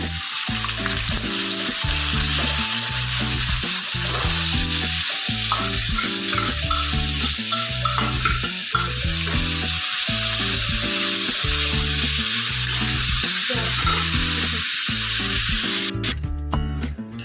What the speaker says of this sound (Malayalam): ഒരു മീഡിയം സൈസിൽ 3 ഉള്ളിയാണ് ഇത് ഞാൻ അരിഞ്ഞു വെച്ചത്, അതിലേക്ക് ഇടണേ